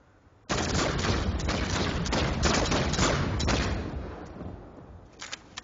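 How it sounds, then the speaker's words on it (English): Sustained rapid automatic gunfire from an Infiltrator-class weapon emptying a full magazine in Planetside 2, loud and dense for about three seconds, then tailing off into faint echoes and a few scattered shots. "it only takes 3 seconds flat to empty a clip"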